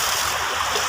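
Water is poured over a backhoe loader in a field to wash off soil, producing a short, loud, splashy rush of water that stays steady and close.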